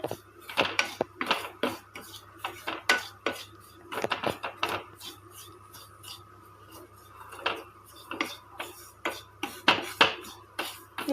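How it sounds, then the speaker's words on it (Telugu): Bombay rava being dry-roasted in a pan for rose rava kesari, with a spoon scraping and clinking against the metal in steady, repeated strokes that carry on throughout, close and fairly loud. "ఇది కూడా కొంచెం దోరగా వేపేసుకోనండి"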